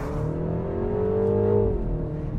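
A 2025 MINI John Cooper Works Countryman ALL4 with an automatic gearbox pulls hard under a loud, steady engine drone that climbs in pitch and then drops briefly as it upshifts.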